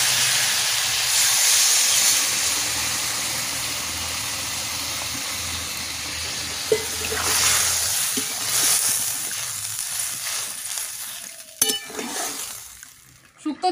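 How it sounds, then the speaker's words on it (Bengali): Shukto curry broth with fried vegetables coming to a steady boil in a pot, a continuous bubbling hiss close by with a few faint clinks near the end. "শুক্তোর ঝোলটা ফুটে উঠেছে"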